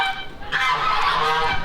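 Geese honk on a farm in Xinjiang, a close, loud cluster of nasal calls swelling over about a second and a half with no talk.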